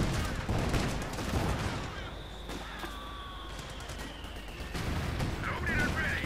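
Battle gunfire in Company of Heroes 2 rattles through a dense mix of shots and bursts, with a faint whistling tone passing midway. Heavy fire continues throughout at a steady, fairly loud level under a busy game soundscape.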